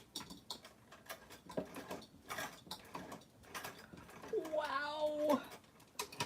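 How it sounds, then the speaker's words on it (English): A sewing machine back stitching a blouse works in short, slow mechanical bursts of clicking and whirring, close by, while a person talks over it. "Nice and slow, and then I'm gonna back stitch."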